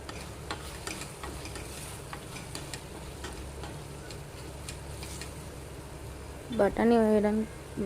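Boiled green peas are tipped into a brinjal curry and stirred in a pan, giving soft scraping, bubbling and scattered clicks, with a voice speaking briefly near the end.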